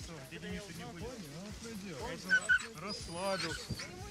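Sled dogs at a finish of the Volga Quest race whimper and yip in short wavering cries, close by and mixed with people talking.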